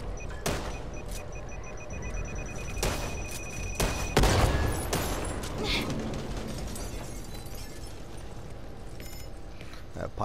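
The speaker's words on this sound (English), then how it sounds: "pipe bomb is effective. Made all they ass run to it." In the zombie shooter Back 4 Blood, a pipe bomb bursts loudly amid a chaotic firefight, with rapid gunshots and cracks before and after, close and dense, and players' voices mixed in.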